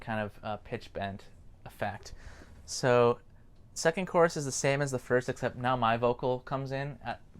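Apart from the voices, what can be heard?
None of the usual background noises is heard.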